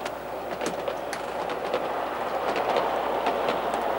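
A G-gauge toy mogul locomotive with a unit train of refrigerator cars runs along the track, giving a steady rolling rumble with repeated light clicks from the rail joints, close and moderately quiet.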